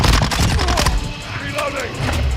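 Rapid automatic gunfire in Modern Warfare 2 multiplayer, a dense burst of loud shots at the start that thins into scattered reports, with a voice talking over the firefight.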